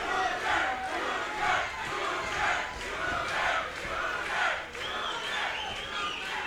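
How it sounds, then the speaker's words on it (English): A crowd at a boxing match at Battle at Baytown roars, cheering and shouting steadily and loudly throughout, in swelling waves of massed voices. "You hear Chancellor Jr. in the crowd."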